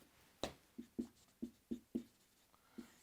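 Chalk or marker taps and strokes on a board during a lecture, about seven short distinct scratches in an uneven rhythm, close and fairly quiet, with no talking.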